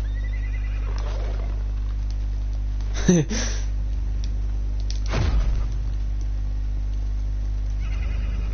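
Horse neighing in the video game Realm Royale: two brief whinnies, one near three seconds and another near five, over a steady in-game background hum, with a player laughing.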